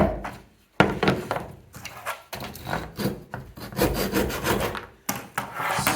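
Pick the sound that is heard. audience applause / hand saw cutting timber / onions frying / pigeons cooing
hand saw cutting timber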